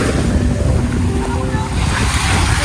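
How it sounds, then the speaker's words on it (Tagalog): Strong sea waves surging and washing onto a beach at Padre Burgos after a storm, loud and continuous with wind buffeting the microphone. "nasa dagat ka, malakas ang alon. Ayun nga, hampas ng hangin, ng tubig."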